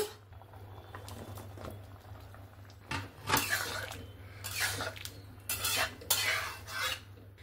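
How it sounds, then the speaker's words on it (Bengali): A spoon stirs chopped papaya into boiling mixed dal in a pot, with soft bubbling under a series of louder scraping and clinking bursts against the pot. "কেটে রাখা পেঁপে দেওয়ার পরে ভালো করে নাড়াচাড়া করে নিয়েছি"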